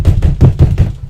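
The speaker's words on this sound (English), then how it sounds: "beating on the door." Heavy fists beat on a door in a rapid run of about six dull, booming thuds, close and loud, with no voices over them.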